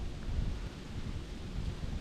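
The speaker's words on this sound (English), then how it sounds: "the wind is gusting so strong" Strong gusting wind buffets an outdoor hunting spot, a low, roaring rumble that swells and surges steadily for the whole stretch, with no voices.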